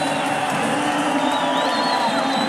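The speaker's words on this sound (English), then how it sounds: "Listen to the cheers. The crowd is just enjoying" Steady, dense crowd cheering fills an arena at the 2014 gymnastics world championship in Tashkent, with whoops and shouts rising over the roar throughout.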